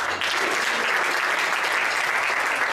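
Audience applauding for a band welcoming a musician to the stage, a loud, dense and steady clapping that keeps an even level throughout.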